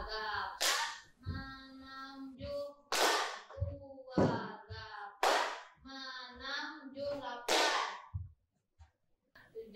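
Sharp hand claps in groups of three mark a dance step, crisp and close, alternating with a voice calling the count between claps, then a brief quiet at the end.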